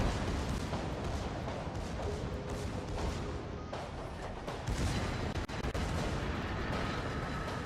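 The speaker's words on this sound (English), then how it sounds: "Secondaries are still overloading him." Dense, continuous barrage of naval gunfire from secondary batteries blasting at an enemy ship in World of Warships, loud and relentless with overlapping booms and crackling impacts throughout.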